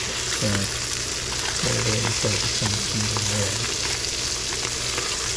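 A silver salmon fillet fries in a hot pan with a loud, constant sizzle and crackle and an occasional scrape of tongs, while a voice briefly speaks over it.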